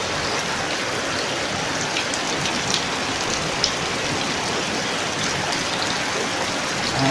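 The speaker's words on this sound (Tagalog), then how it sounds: "Ang uwan ngayon sa amin." Heavy rain pours steadily outside a house, a dense, even hiss of drops with occasional faint patters, continuous and fairly close.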